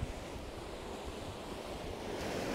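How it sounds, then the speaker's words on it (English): Ocean rogue wave surging in, a steady broad wash of surf that swells slightly louder toward the end, with wind rumbling against the microphone. "every now and then I get a rogue wave coming up"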